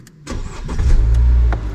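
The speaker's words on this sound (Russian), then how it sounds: "Вот так должен гудеть автомобиль, безо всяких дополнительных посторонних звуков." A used 2015 Renault Duster's engine hums steadily and close, swelling into a low, even rumble after a brief start, with no rattles or extra noises and no one speaking.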